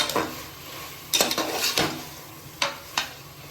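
Chicken tossed lightly in hot oil in a pan for a chicken kulambu, with a steady hiss of frying under a few sharp scrapes and clinks of a metal spoon against the pan, close and moderately quiet.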